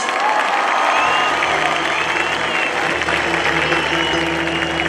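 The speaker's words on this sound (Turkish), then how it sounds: "Kocaman bir alkış." Large concert crowd applauding and cheering, a loud continuous wash of clapping and shouts lasting about five seconds, with a low hum underneath.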